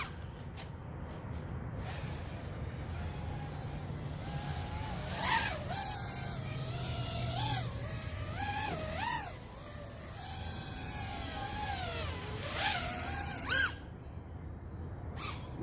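A BBB 128 FPV drone with powerful brushless motors flies in a line-of-sight test. Its motors whine in a continuous buzz that rises and falls with sharp throttle punches and sweeps, heard from a moderate distance with no talking.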